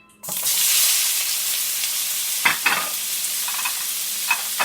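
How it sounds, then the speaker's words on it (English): Vegetables hit hot oil in a skillet for a shrimp and pineapple stir fry, bursting into a loud, steady sizzle after a brief quiet start, with a few sharp clatters of stirring scattered through the hiss. "after you put the oil in the skillet, I'm going to add the vegetables to the oil"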